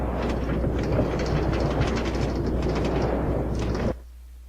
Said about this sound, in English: I'm going to replace some of this with powered rails so the cart can get back and forth